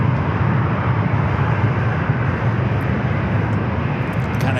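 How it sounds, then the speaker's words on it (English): A Lufthansa Airbus A350 departing San Diego airport makes a loud, steady broadband jet roar with a heavy low rumble that holds throughout, without talk over it. "Up first, Lufthansa A350."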